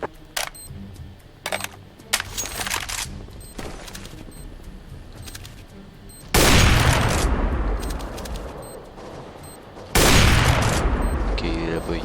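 Gunfire in the video game CS:GO, scattered sharp shots and short rapid bursts, then two long loud sustained volleys, with people talking throughout.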